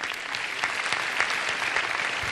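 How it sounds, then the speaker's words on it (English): Audience applause for a student being introduced at a university opening convocation, a dense steady patter of many hands clapping for a couple of seconds with no talk over it. "Let's give Tisha a round of applause."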